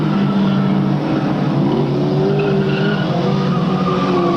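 A race car spins out on the track during a 1998 race, its tires skidding and squealing loudly under roaring engine noise from the nearby field.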